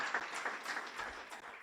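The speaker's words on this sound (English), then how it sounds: "So a nice round of applause for our January 2016" Faint audience applause for a graduating class of guide dog users at a January 2016 ceremony, a steady wash of distant clapping with no voices.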